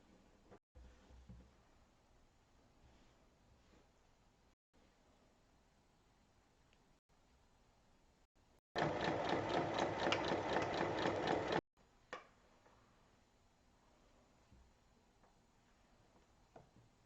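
A sewing machine stitches a seam on a small fabric pouch, one loud steady burst of about three seconds standing out over a quiet room with faint handling sounds before and after.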